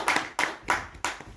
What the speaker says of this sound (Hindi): तो जोरदार तालियां हो जाए मोदी केयर के लिए और कार्तिक जी के लिए।